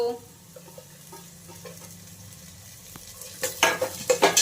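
Carrots and cabbage with ginger and garlic are stir-fried in a pan, a soft sizzle giving way to a run of loud, close scraping stirs that grow more insistent toward the end.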